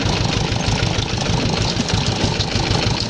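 A car engine drones steadily as the vehicle jolts along a rough dirt track through fields in foggy autumn weather, a loud, continuous rumble close to the microphone with no voices.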